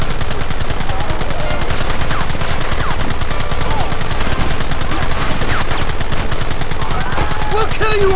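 Gunfire in the video game Red Dead Redemption, a relentless rapid stream of loud, close shots from several guns that runs the whole time, with shouting voices mixed in.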